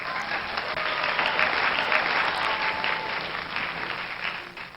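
A crowd claps in a steady burst of applause that stays loud and dense throughout, then fades at the very end.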